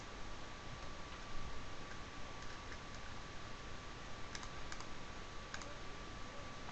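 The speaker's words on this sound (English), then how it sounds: "I just click V on my keyboard." Keys on a computer keyboard are tapped in a few light, quick clicks against a steady background hiss, with scattered single presses and a short cluster near the end.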